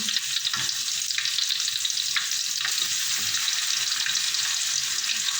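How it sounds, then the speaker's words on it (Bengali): Fish and potatoes frying in a wok, a steady loud sizzle that runs throughout with faint stirring knocks, close and with no talking. "মাছগুলো মিশিয়ে দিচ্ছি, সাথে সাথে আলুগুলো মিশিয়ে দিচ্ছি কড়াইয়ের মধ্যে।"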